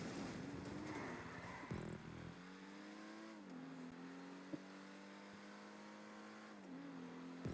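Game car engine driving on snow, a steady mid-pitched drone with shifting harmonics as it revs and slides, with a brief knock partway through; no talking.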